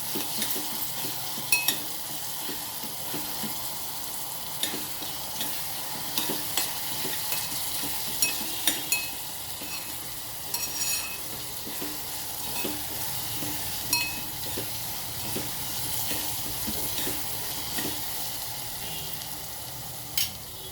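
Mint chutney mixture with dried red chillies frying in a pan over a low flame, a constant sizzle broken by repeated scraping clicks of a spoon stirring against the metal, close and steady without speech.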